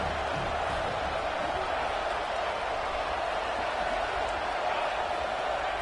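A college football stadium crowd at a first-round playoff game against Colorado roars in a steady, loud, broad wash of noise, with a commentator talking over it.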